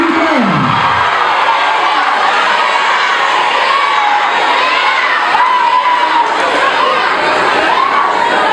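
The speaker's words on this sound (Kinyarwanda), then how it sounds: "Amashyi menshi cyane kuri Ben." A large crowd cheering, shouting and clapping loudly and continuously in a lively gathering, with excited children's voices mixed into the roar.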